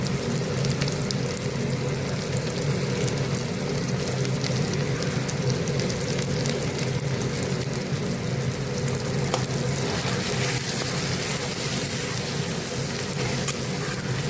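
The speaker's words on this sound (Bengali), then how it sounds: "ভালো করে কষিয়ে নেব" Ground spices frying in a pan with chopped ginger, garlic, tomato and dried chilli, a loud, dense, unbroken sizzle like rain on a surface, with faint stirring throughout.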